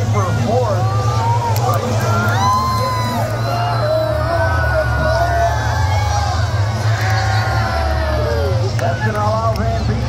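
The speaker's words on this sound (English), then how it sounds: "I love how you hear the whole crowd." A large crowd at a school bus demolition derby yelling, whooping and cheering continuously, with excited voices rising and falling over a low rumble of engines throughout.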